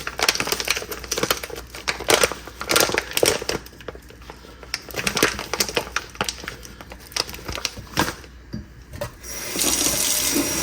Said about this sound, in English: I'm going to fill this up the rest of the way. I'm going to use a gentle stream of water